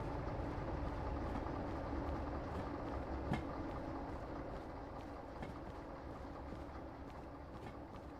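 Train cars in the Derail Valley railway simulator roll along steadily while being coupled together, giving a dense, continuous rumble with a few faint metallic knocks and no voices.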